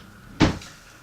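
A storage drawer slides open in one quick, close burst, with a brief scrape trailing off into quiet room tone.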